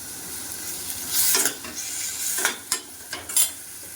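Green chillies go into a hot pan with a little turmeric as a cucumber dish fries, a soft steady sizzle under a few scraping stirs and light clinks of the spoon against the pan.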